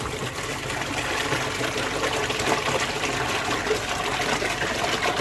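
Water pours steadily into a garden pond through an open bottom drain, a continuous, fairly loud rushing and trickling wash with no talking.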